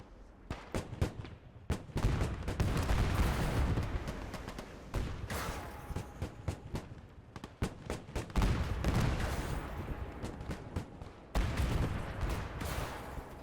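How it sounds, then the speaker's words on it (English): Katyusha rockets firing in the Gates of Hell video game, dense salvos of loud booming launches and blasts in quick irregular bursts, near and forceful, with brief gaps between volleys. "And those rockets are flying everywhere."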